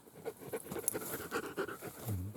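A dog pants in quick, soft, breathy bursts close by on an outdoor walk, faint and irregular.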